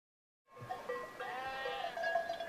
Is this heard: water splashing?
no